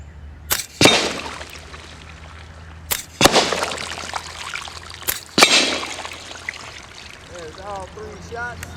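Three sharp shots from an AEA Terminator gen2 .30 caliber air rifle firing 54.5 grain slugs at milk jugs at 50 yards, each crack followed by splashing water, then a short burst of whistled or chirped sound.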